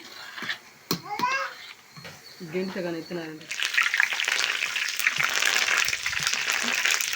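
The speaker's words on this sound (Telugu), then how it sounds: "సో ఈ విధంగా వేగేటప్పుడు బబుల్స్ అనేవి వస్తాయి" Hot oil bubbling and sizzling as a bakery-style mixture snack fries, a steady hiss that swells louder in the second half, with someone talking over the start.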